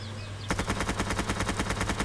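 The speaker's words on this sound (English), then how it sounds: "You can see that there's a clear difference in the rate at which we shoot." Rifle fire in the Roblox game Mad City at low frame rate: after a short quiet lead-in, a rapid, evenly spaced automatic burst of about fifteen loud, sharp shots runs without pause and with no talking.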